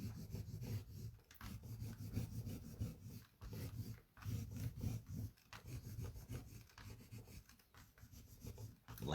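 White oil pastel rubbed onto paper in random spots, soft close scratchy strokes repeating in an uneven back-and-forth rhythm with short pauses between passes, quiet and without talking.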